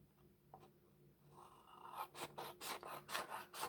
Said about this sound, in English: So now I'm going to go back through and I'm going to trim them out.